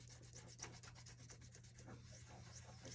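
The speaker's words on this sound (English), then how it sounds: "So I'm giving it a good burnish." Paper for a papercraft apple is burnished with firm, rapid back-and-forth rubbing strokes, a soft, steady scratchy swishing under a low constant hum, with nobody talking.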